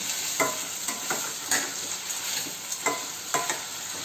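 Green chilli pieces frying in a pan, a steady close sizzle with periodic scraping stirs of a spoon against the pan, no voices.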